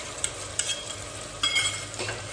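Onions fry in a pan with ground garlic, ginger and fennel, giving a steady low sizzle with a few brief stirring scrapes and clinks rising above it.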